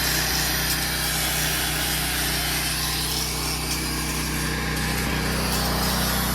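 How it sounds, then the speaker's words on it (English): A loader engine drones steadily and loudly, pushing a steel channel into place for a cattle chute, a constant mechanical roar with no breaks and no talk. "We're gonna try pushing it in at the loader so we can weld the chute to it so it doesn't move around."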